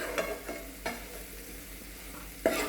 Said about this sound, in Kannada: ಕೆಂಪು ಖಾರ ಹಾಕೊಂಡು ಚಂದಗೆಲ್ಲ ಮಿಕ್ಸ್ ಮಾಡ್ಕೊಳ್ಳೋಣ